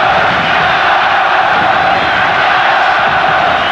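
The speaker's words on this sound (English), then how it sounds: "this crowd certainly partisan and making the right kind of noise" A partisan football stadium crowd at a UEFA Cup Final first-leg match between Casino Salzburg and Inter Milan keeps up a loud, continuous roar of cheering and chanting with no break.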